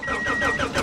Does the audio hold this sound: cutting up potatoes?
no